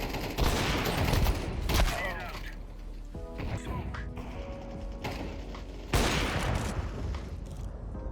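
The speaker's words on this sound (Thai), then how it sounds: "โอ้โห เสียงปืน" Bursts of rapid gunfire and crashing impacts from Counter-Strike 2, loud and dense at the start and again near the end, with mechanical clicks between.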